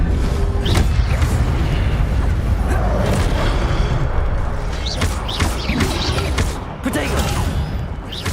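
Spell-casting effects from the video game Hogwarts Legacy, with a fire spell bursting in dense, continuous crackling blasts and booms that fill the scene, over steady game noise and some voice.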